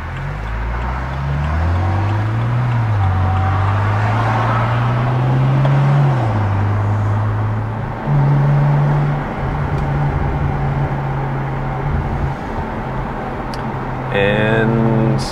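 A BMW E92 335i with an N54 engine pulls hard at wide open throttle in third gear, its loud engine note climbing steadily in pitch, dropping at a shift, then climbing again, heard from inside the car.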